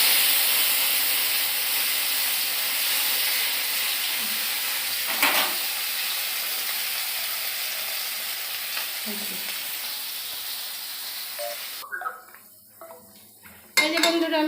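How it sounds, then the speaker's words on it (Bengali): Two pieces of hilsa fish frying in oil, a steady, close crackling sizzle that slowly fades, broken by a few utensil clinks and clattering pan sounds toward the end. "এই যে 2 পিস ইলিশ মাছ এগো বাপ বাটার জন্য ভাজা"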